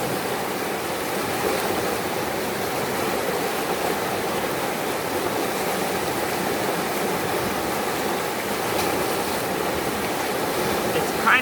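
Fast-flowing stream water rushes around a gold pan in a constant loud roar of turbulent waves and spray, steady throughout with no pause.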